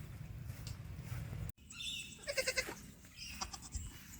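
Goats in an enclosure on a farm bleat a few times at close range, with short calls breaking over a quiet outdoor background and a brief dropout partway through.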